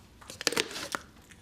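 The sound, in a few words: breastbone of poultry being broken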